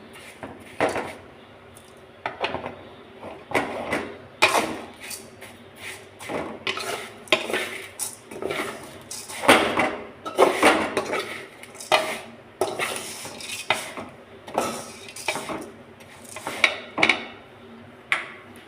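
Vermicelli is lightly roasted in ghee in a pan, with repeated metallic scrapes and clinks from stirring coming close and steady over a faint frying hiss.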